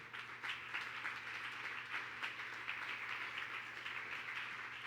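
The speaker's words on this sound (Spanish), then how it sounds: "Dele ese aplauso al Señor." A church congregation claps in praise during a Spanish-language sermon, a soft, fairly distant and sustained patter of many hands that holds steady without speech.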